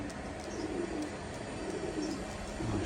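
High flyer pigeons coo softly in a loft, low murmuring calls blended into a steady, noisy background hum throughout.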